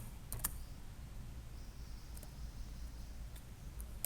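Brief bursts of clicking keys from a computer keyboard as code is typed, fairly faint and close, with short pauses between quick runs of keystrokes.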